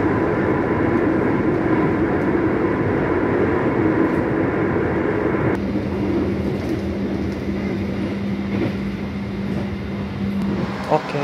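Manahan executive passenger train running on rails, a loud continuous rumble and rattle heard from inside the carriage, with a steady low drone joining midway and faint clicks of the wheels.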